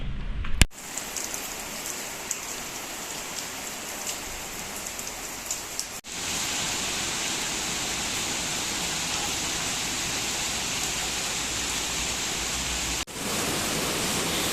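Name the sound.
rain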